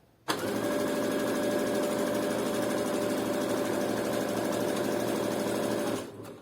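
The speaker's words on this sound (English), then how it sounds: "And then we're just going to sew those together multiple times." A sewing machine runs steadily, stitching the side seams of high-waisted shorts in one loud continuous burst that starts abruptly and winds down just before the end, with no talking.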